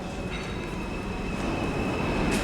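A New York City subway train cruises through a station without stopping, its steady rumble and rail clatter growing gradually louder over a couple of seconds, with a faint high whine running throughout.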